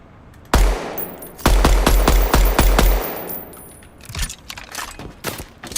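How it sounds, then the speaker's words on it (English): Shotgun blasts in a Spider-Man video game: a loud booming shot followed by a rapid run of five or six heavy blasts, then quieter scattered impacts and clatter. "Shotgun's pretty fun."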